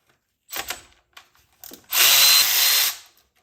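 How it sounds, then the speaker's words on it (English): Ratchet clicking as a bolt is worked loose on the N52 engine of a 2011 BMW 328i, a few short bursts of clicks and knocks, then a louder sustained whirring rattle for about a second, close up. "you'll have enough room to fit your ratchet here"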